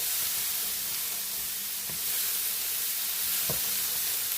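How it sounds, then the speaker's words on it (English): Browned bits are scraped up from a hot pan while food sizzles, a steady bright hiss with two brief scraping strokes cutting through, close and alone. "Scrape all that up because that's just your season."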